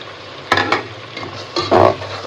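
Whole garam masala, cardamom, tomato and green chili being sautéed and stirred in a pot for chicken bhuna khichuri, giving a few scraping stirs and a short louder sizzle over a low background hiss.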